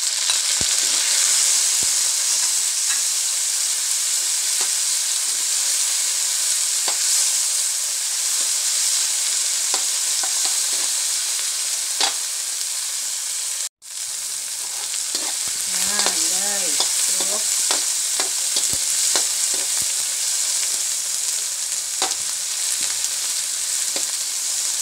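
Onions and tomatoes sauté in a pan for a salmon-head sinigang with shrimp, giving a steady broadband sizzle with scattered stirring clicks and scrapes, loud and close, with one brief break midway and no talking.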